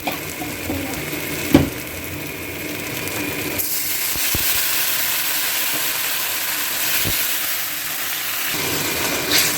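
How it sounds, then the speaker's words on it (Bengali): Water added to spice paste frying in a pan for a thin katla fish curry with bottle gourd stems and ridge gourd, giving a sudden loud sizzling hiss that surges and then holds steady, with a few clicks of utensils. "দেখো, এই জল দিয়ে দিলাম, কেননা লেগে যাচ্ছিল না আমাদের মশলাটা"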